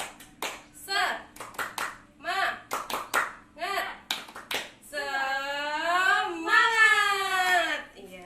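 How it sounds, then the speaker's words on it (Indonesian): A group of adults and children does a rhythmic spirit-clapping routine in an Indonesian classroom or training session, with crisp patterned claps in short bursts, followed by voices chanting and talking together close by. "Sekarang sebelum memulai kita tepuk semangat dulu ya Bu, biar tambah semangat."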